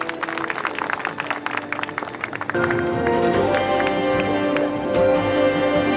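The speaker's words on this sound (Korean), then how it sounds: "여러분 큰 박수 부탁드립니다." Dense audience applause fills an outdoor unveiling ceremony for Sejong City's love temperature tower, then gives way to steady background music.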